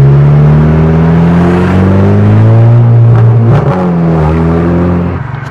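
A Volkswagen MK6 GLI engine roars steadily at full throttle, pitch holding then dipping and climbing again briefly before easing off near the end, loud and close.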